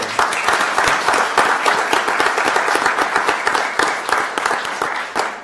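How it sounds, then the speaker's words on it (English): A crowd at a county commissioners meeting bursts into sustained applause, dense steady clapping from many hands that holds at an even level throughout. "So how about a round of applause for the girls softball team that also won state?"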